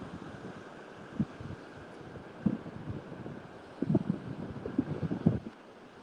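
Outdoors at Pipestone National Monument, wind buffets the microphone in low rumbling gusts that swell and drop irregularly, with faint background sound and no voices.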